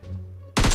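Rapid burst of M4 rifle fire in the mobile battle game PUBG Mobile, loud and close, cutting in abruptly after a quiet moment and rattling on to the end.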